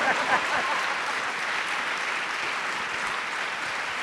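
Continuous, dense audience applause at an onstage conversation event with Boy George, steady and fairly close, filling the whole stretch with no talking over it.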